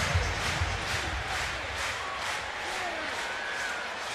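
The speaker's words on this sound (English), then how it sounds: "Crowd got into it." Steady roar of a stadium crowd at a 2009 NFL game between the Cincinnati Bengals and Pittsburgh Steelers, a dense, sustained wash of cheering and noise that holds at an even level throughout with no talk over it.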